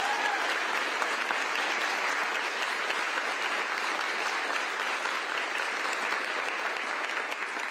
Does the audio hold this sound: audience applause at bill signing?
yes